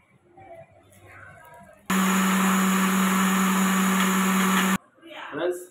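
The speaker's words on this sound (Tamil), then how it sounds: "இப்போ அரைக்க போகிறோம்." A mixer grinder blending a muscle gain protein drink, loud steady motor whir running for about three seconds, cutting in and out abruptly between bits of quiet talk.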